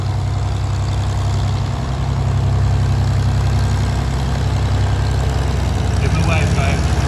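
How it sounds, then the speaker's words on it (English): Two Yak fighter planes taxiing along the crowd line at the Classic Fighters airshow at Omaka, their engines idling in a steady low rumble that holds throughout, fairly loud and close. "with the two yaks taxiing down the crowd line"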